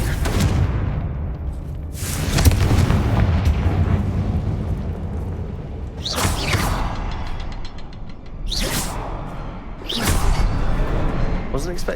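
The Confringo fire spell from Hogwarts Legacy detonates as several booming, whooshing bursts spaced a few seconds apart, each with a loud rush that decays into low rumble; a voice talks between the blasts.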